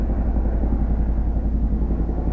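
A helicopter passes over a house, its low, steady rotor thump pulsing evenly and fairly loud, with no voices over it.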